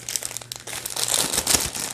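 Crisp crinkling of a plastic package being handled and snipped open with small scissors, close and fairly loud, with irregular rustling bursts.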